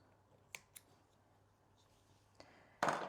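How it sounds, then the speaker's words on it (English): A few sharp snips of scissors cutting T-shirt yarn, two quick clicks early, then a louder crisp cut at the end in a quiet room. "Grab our scissors and cut it."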